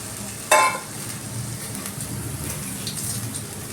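Okra curry fries in a pan with a steady soft sizzle and stirring; a sudden brief hiss flares as water is sprinkled in, then settles back into a quiet, continuous sizzle.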